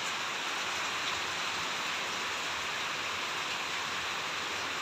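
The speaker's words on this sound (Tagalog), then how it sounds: "Yan, Lakas ng ulan." Heavy rain pours down in a dense, steady hiss with no pauses, loud and close throughout.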